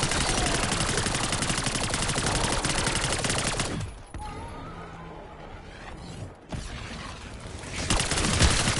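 Dense rapid gunfire from a zombie video game, loud bursts of automatic fire filling the first four seconds, a quieter lull with scattered sounds, then firing resuming near the end.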